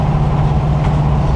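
A 1977 Chevy Monte Carlo with an oversized carburetor idles, a loud, close, steady low rumble with a continuous even drone.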